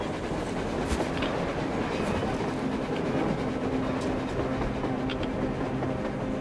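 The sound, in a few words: train on the surface in video game Metro Exodus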